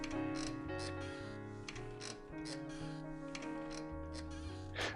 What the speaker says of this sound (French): j'entends le bruit d'un grincement